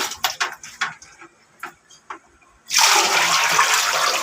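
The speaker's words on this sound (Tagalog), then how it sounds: "Buhusan natin ng tubig" Water is poured into a clogged toilet: a few faint clinks and taps first, then a sudden loud, sustained gush of water splashing into the bowl that continues to the end.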